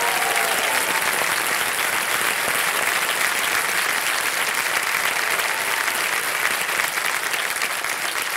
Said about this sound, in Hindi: तालियां बज जाए जोरदार इनके लिए।